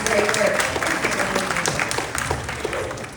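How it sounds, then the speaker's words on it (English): A crowd applauds for the parents at a book talk at a women's center in Los Angeles, a few seconds of brisk, full clapping with some voices mixed in. "round of applause for all the parents out here"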